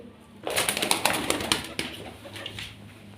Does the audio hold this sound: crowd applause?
no